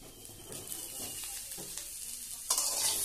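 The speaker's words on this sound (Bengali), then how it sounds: "কয়েকবার নেড়ে চেড়ে নিয়ে এর মধ্যে টুকরো করে রাখা টমেটোগুলো দিয়ে দেব" Potato, bitter gourd and ginger stir-fry in a pan with a dense, close sizzle and scraping stirs. The frying swells suddenly near the end.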